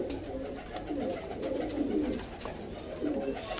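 A pigeon coos alone in a series of soft, low, rolling calls repeated across a few seconds. Faint background noise sits underneath.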